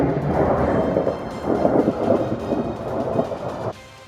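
Thunder during a snowstorm in central Illinois, a loud continuous rumble that swells and rolls for several seconds before dropping off abruptly.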